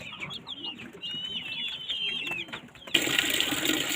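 Small chicks chirp in a rapid string of high, thin peeps at close range, then a louder rushing noise abruptly takes over in the final second.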